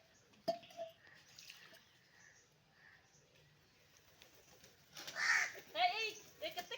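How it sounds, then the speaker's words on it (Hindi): Crows caw nearby outdoors, a few harsh calls early and then a louder cluster of repeated caws near the end, with people's voices talking around them. "ए केते काऊ है पापा रे केते काऊ देखो"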